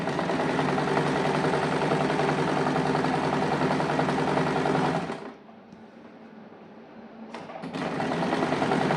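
A sewing machine double stitching a kurti slit, a loud steady mechanical whir running close for several seconds, then dropping to a quiet lull before it starts up again.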